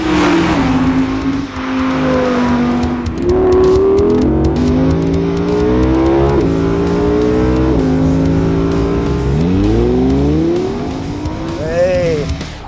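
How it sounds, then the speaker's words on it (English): An Audi R8 with a high-revving 610 hp V10 accelerates hard. The loud engine note climbs through the gears in rising sweeps, and someone talks over the roar. "The classic thing about this car is the high revving V10 engine."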